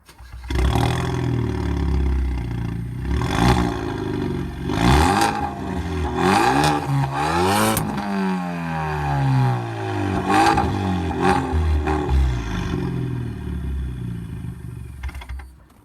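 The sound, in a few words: car engine with straight pipe exhaust revving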